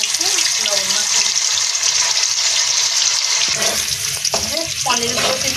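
Salted paneer frying in a kadai, a continuous bright sizzling hiss with some clatter and stirring, close by, while a person talks over it.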